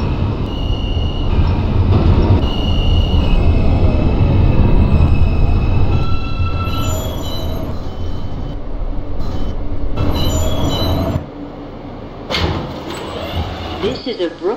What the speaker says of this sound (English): This is a Brooklyn-bound Q train.